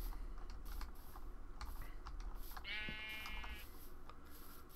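A single sheep bleats in modded Minecraft 1.12 on a server, a short wavering in-game bleat midway through, heard over steady background hiss and soft keyboard-like clicks.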